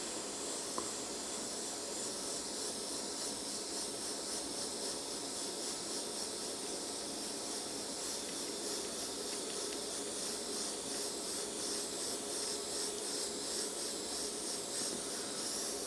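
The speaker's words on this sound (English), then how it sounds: "Just backing off with the brush and just dusting the paint in." An airbrush hisses steadily and continuously at close range while dusting paint onto a monochrome portrait, a smooth unbroken spray with no pauses.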